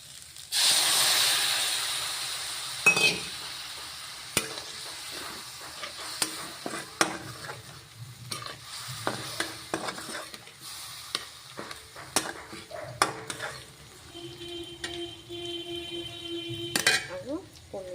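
Cashew paste hits a hot pan with a loud initial sizzle that fades to a softer hiss, while repeated utensil scrapes and taps mark the stirring; a faint tone hums near the end.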